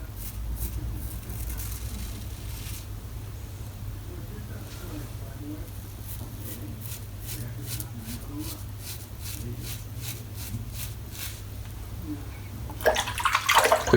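Water runs steadily from a tap as a Feather razor blade is rinsed, a constant low splashing flow that swells into louder, sharper splashes at the very end.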